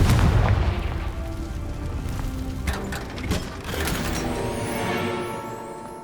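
Fire spell explosion from the Confringo curse in Hogwarts Legacy: a loud, booming blast at the start, followed by crackling, rumbling debris and mechanical clatter that slowly fade over several seconds.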